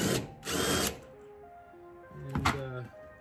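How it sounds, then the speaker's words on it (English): DeWalt impact driver loosening a strut nut on a car suspension, two short close bursts of rattling hammering, the second followed by a clunk, with quieter ringing between. "I have my handy dandy DeWalt impact here so that the strut's not just spinning"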